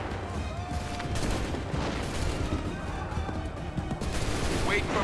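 Musket volley gunfire in Assassin's Creed 3 at the Battle of Lexington, repeated loud crackling bursts of massed shots with booming low rumble, heard close and almost continuous, with faint shouted voices mixed in.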